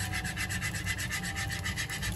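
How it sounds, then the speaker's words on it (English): A whisk scrapes rapidly and steadily through thick, creamy Alfredo white sauce in a pan, making close, even rhythmic strokes with no talking. "you always wanna make sure that you're constantly whisking the mix"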